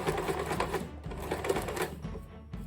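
Domestic sewing machine stitching a zipper into a make-up bag or cushion, running in steady rapid bursts with a brief pause and restart, close and continuous.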